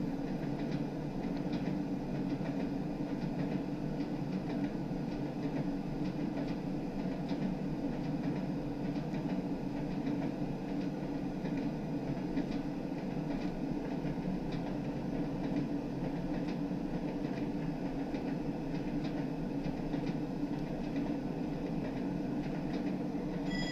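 A Class 101 diesel multiple unit runs in Train Sim World 3 on the Tees Valley Line, giving a steady low engine drone with faint rhythmic rail clatter that stays even and continuous throughout.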